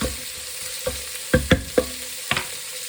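Beef browning in a frying pan for a pie filling, with a steady sizzle broken by several sharp scrapes and knocks as the meat is stirred and turned, close and fairly loud, with no talking.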